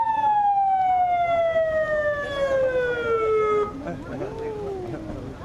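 An ambulance siren wails nearby in a long, falling tone with strong harmonics, then cuts off, leaving street bustle and a fainter rising wail.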